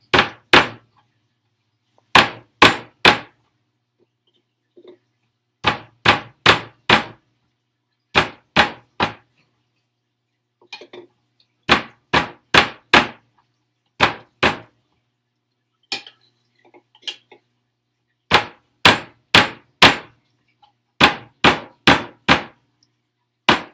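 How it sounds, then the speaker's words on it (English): Repeated sharp hammer blows on a kitchen counter while fritters are being made. The strikes come in tight bursts of three or four, with short pauses between groups, close and loud, and no one speaks. "So glad I've got this hammer."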